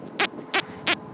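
Minelab XP ORX metal detector on wet beach sand giving a reverse signal: three short, evenly spaced bright beeps over a faint hiss of background noise.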